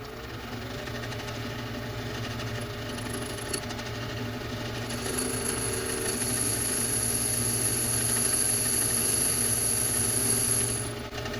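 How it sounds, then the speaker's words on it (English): A power tool cuts through aluminium with a continuous mechanical whine. A sharp high-pitched tone joins partway through and holds steady before the cut ends just before the finish. "See how lovely that cuts on aluminium."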